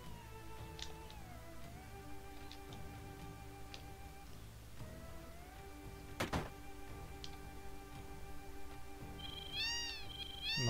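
Cats in the town of Wutai in Final Fantasy VII meow softly a few times over sustained game background music.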